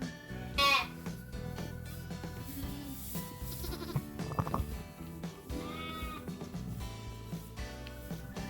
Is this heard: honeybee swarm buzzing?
no